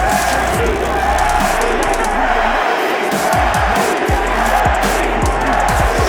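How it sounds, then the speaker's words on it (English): A boxing arena crowd roars during the 2025 Manny Pacquiao vs Mario Barrios fight, a loud, continuous wall of cheering and shouting with a commentator's voice mixed in. "Listen to that crowd."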